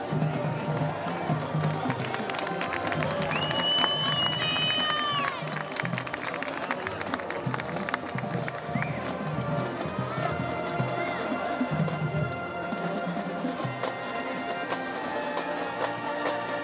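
A high school crowd cheers for its marching band: a continuous dense roar of voices with scattered whistles and shouts, steady and fairly loud throughout, with a few high whoops rising above the din.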